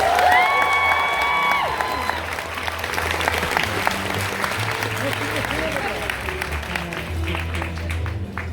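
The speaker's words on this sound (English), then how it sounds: "Give this beautiful gown a huge round of applause." A convention audience at a cosplay grand prix contest applauds a handmade embroidered silk gown, sustained loud clapping with cheers and whoops throughout, while a presenter's voice carries over the crowd.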